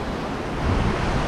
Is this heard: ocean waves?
yes